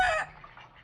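One short, close chicken squawk from a farm's game fowl breeding stock, loud and then fading quickly into quiet.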